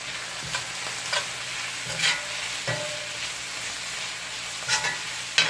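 Curry powder frying and being stirred in a pan for coconut curry shrimp: a steady close sizzle with a few distinct spoon scrapes at irregular intervals, and no talking.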